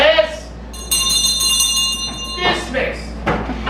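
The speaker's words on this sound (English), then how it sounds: "we'd dismiss class by ringing this bell here" An old schoolhouse bell at Knott's Berry Farm rung to dismiss class, a bright sustained clanging that rings and decays, with someone talking just before and after it.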